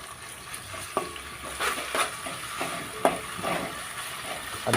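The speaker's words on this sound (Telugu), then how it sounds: "పచ్చి వాసన పోయేంత వరకు చక్కగా ఇలా ఫ్రై చేయాలి." Ginger paste fries in a pan for a village-style boti curry, a steady sizzle broken by the sharp scrape and knock of a spoon stirring several times, close and with no talking.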